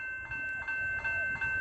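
Doodlebug railcar pulling up at Tyabb station, a steady rail-vehicle drone with a high constant whine and rhythmic wheel clicks repeating about every third of a second, heard nearby with no talking.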